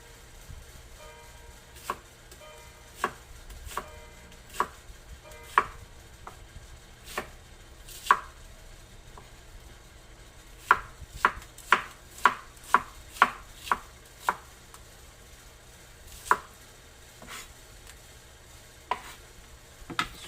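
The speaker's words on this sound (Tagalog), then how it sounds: "Sunod ko na rin hiwain to." Onion chopped with a knife on a board, a string of sharp close knocks, irregular and then in quick bursts, no talking.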